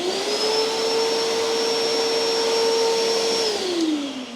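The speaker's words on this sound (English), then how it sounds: "Chop vac sounds good." A shop vac runs on a portable power station, a loud steady whine with a bright high tone that holds, then begins to spin down near the end, with no talking.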